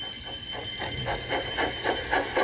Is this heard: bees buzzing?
no